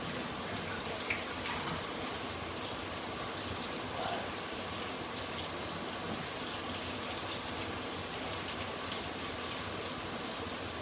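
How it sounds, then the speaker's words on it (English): Running tap water pours steadily in a home kitchen while hands are washed under it, a continuous close splashing gush with no talk. "Let me wash my hands."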